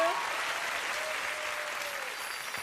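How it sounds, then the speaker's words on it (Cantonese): Audience applause at a Hong Kong beauty pageant final for a contestant: continuous clapping from a crowd in a hall, steady and fairly loud, with a host's voice briefly over it. "犀利啊！俾啲掌聲"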